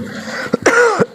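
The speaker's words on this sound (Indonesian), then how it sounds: "Mohon maaf ini saya agak batuk" A single sharp cough followed by a brief throat-clearing sound, close and loud, with no talking.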